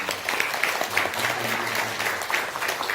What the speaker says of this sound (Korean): 힘차게 여러분들 격려의 박수 한번 보내주시기 바랍니다